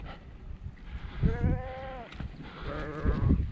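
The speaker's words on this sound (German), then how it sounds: "Jede Menge kleine Schäfchen" Two short, wavering bleats from young lambs sound close by over a rough, noisy outdoor background.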